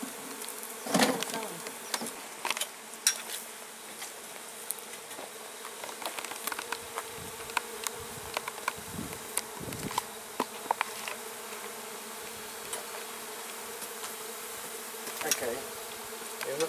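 Honeybees at a beehive in Provence buzz steadily with their wings throughout, a dense, continuous drone with occasional louder passes of individual bees close by, no talk.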